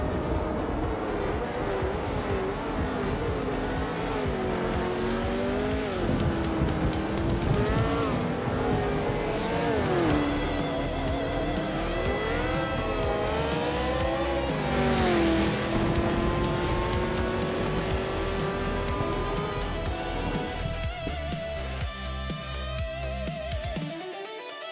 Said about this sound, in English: Hope you're ready for some exciting AI car races today.